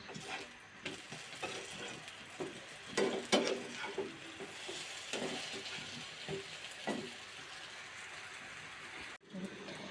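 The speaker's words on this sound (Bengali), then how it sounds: "বেগুন ভাজাগুলো হয়ে গেছে।" Eggplant slices fry in a pan in a small home kitchen: a soft, quiet sizzle with scraping stirs and a few louder spatula scrapes, and faint talking in the background.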